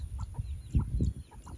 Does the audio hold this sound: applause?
no